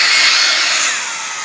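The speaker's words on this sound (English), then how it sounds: "grab your blow dryer" A blow dryer runs on its low setting beside rayon fabric being airbrushed with lettering, giving a steady, close airy hiss that eases slightly toward the end.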